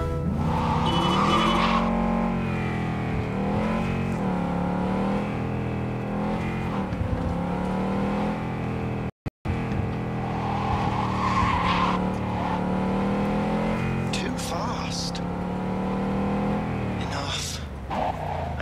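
Cyberpunk 2077 car driving, with steady engine roar, revving and tire squeals running nearly continuously and a brief dropout midway; voices talk over the driving.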